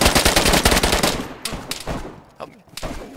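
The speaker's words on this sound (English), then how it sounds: "Somebody's shooting me." Rapid bursts of automatic gunfire in the video game DayZ, a dense fusillade of loud close shots followed by scattered single cracks and short volleys.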